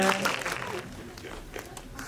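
Brief burst of audience applause at a film screening talk event, a short dense patter of clapping that fades quickly under a voice speaking over it.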